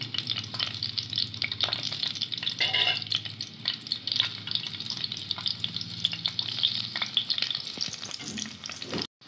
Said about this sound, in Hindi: तो उसमें मैंने ये आधा कप घी डाल लिया है इसमें, और इसमें हम डाल रहे हैं ज़ीरा